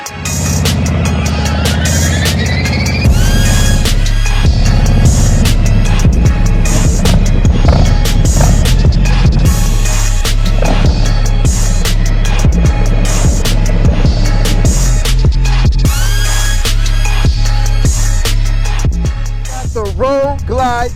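Harley-Davidson Road Glide being ridden on the road, a loud, close, rumbling engine with rhythmic throttle changes and rolling road noise, continuous throughout.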